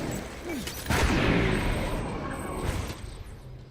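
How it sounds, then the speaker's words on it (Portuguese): Enemies firing into smoke in Death Stranding, a loud burst of gunfire that fades into a rumbling tail, then a second weaker volley, with a voice faintly present. "eles ficam atirando na fumaça"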